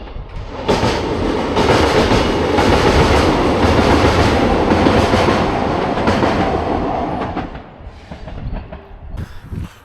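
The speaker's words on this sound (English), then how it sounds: "get a shot of the train going back over the viaduct" A train crosses the Shin viaduct with a loud, steady rumble and the rhythmic clickety-clack of its wheels, then passes and fades away, leaving faint outdoor ambience.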